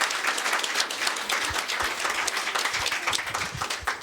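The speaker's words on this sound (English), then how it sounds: "So everyone, a big round of applause." Audience applause at a pest-management networking breakfast event, a steady, dense wash of many hands clapping filling the room continuously, loud and close, with no voices.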